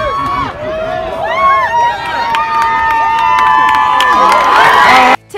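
A raucous crowd at a professional baseball game cheers Tim Tebow's opposite-field home run off a left-handed pitcher, loud excited shouts and whoops rising and swelling for several seconds before cutting off abruptly.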